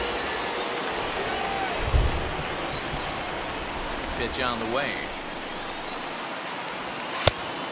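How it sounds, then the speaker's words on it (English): Steady rain falls during a Mets baseball game, a dense hiss under a broadcaster's voice, with a brief thump early on and one sharp crack near the end. "the rain starting to intensify here. It's coming down a little heavier now."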